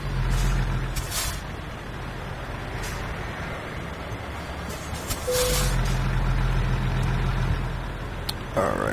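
A Peterbilt 579 day cab truck with trailer attached in American Truck Simulator during a tug test: a steady low diesel idle rumbling throughout, a few short hissing air-brake bursts, and the engine swelling louder midway.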